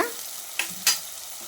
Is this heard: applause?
no